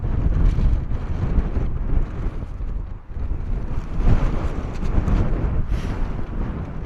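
Strong wind buffeting a microphone outdoors at Bristol Airport, a loud, continuous low rumble that swells and briefly dips, with no talk.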